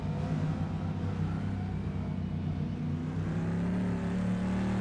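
A Bizzarrini race car from a GT Classics pack in Assetto Corsa holds a steady, droning engine note on a lap, with layered harmonics humming at a constant, moderate level and no talk over it.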